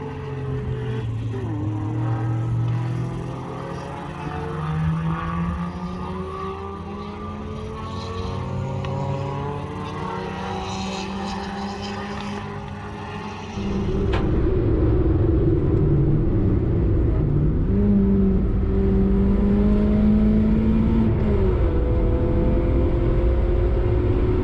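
Nissan S14 race car lapping Manfeild circuit, engine drone rising and falling through gear changes for the whole stretch, then a louder, closer, heavier rumble from about midway on.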